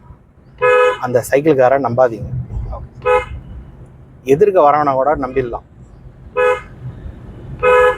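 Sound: car horn honking

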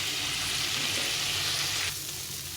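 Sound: chickpea and papaya curry frying with spices

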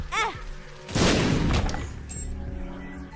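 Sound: bomb explosion in the video game The Binding of Isaac: Rebirth

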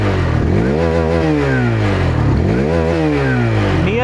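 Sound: Hero Xtreme 160R 4V motorcycle engine revving

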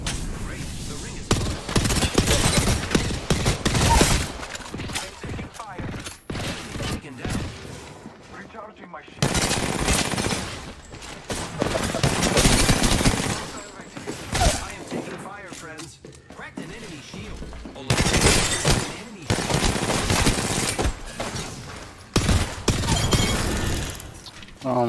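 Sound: gunfire in a battle royale video game

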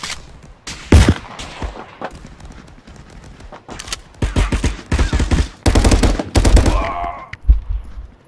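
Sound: shotgun fire in the VR game Contractors

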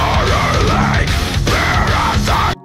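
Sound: excerpt of heavy metal single Dwell Down by Kymykra

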